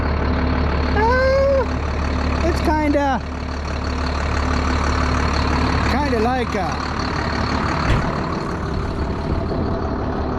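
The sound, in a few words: tractor engine running while harvesting soybeans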